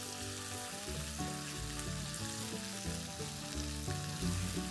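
Onions sizzle steadily in a hot pan for a tofu curry, a continuous close frying hiss with faint stirring scrapes, and no voices.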